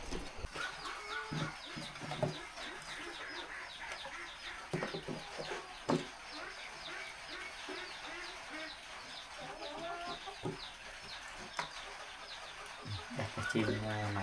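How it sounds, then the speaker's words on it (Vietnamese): Ducks and chickens gather outdoors at a rural home, waiting to be fed, with steady clucking and bird chatter running throughout and a few sharper calls standing out. "Này con vịt và con gà đợi ăn."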